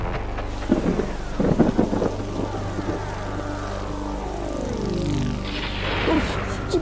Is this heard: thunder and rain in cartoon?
yes